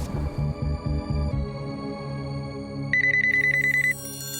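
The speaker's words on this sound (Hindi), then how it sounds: "मम्मी ऑफिस पे फोन लगाओ, लैंडलाइन पे, शायद पापा वहीं रुके हो।" An office landline telephone rings in repeated electronic bursts, loud and close, followed by a brief higher trill near the end, with no talking.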